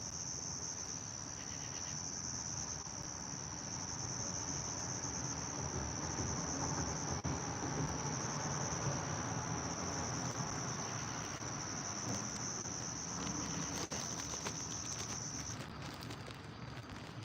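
Crickets chirp at night in a steady, continuous high trill that holds for most of the stretch, with a dense insect chorus and low outdoor background beneath it, then the trill fades near the end.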